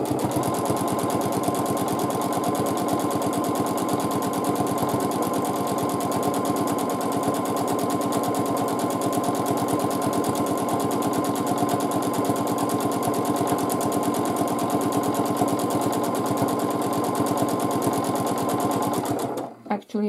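A sewing machine runs steadily while free-motion stitching a quilt sandwich, a fast, even mechanical whir lasting about nineteen seconds before stopping, with a voice talking over it.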